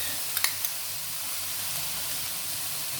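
Mixed vegetables simmer in a pot of water with Maggi tastemaker masala for a vegetable biryani: a steady soft bubbling hiss, with a few faint clicks near the start and no voices.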